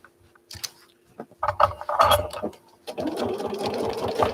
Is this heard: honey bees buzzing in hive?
no